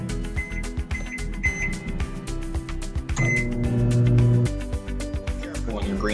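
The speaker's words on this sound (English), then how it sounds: "throw them in the microwave for 2 minutes" A microwave oven heating green beans in a plastic-wrapped bowl with a little water hums steadily under talk and kitchen noise, with a brief electronic beep partway through.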